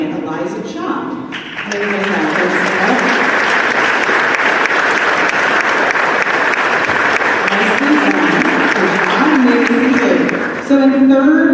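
A school assembly audience at a middle school Veterans Day convocation bursts into sustained, loud applause for several seconds, with a voice speaking before it starts and again as the clapping fades.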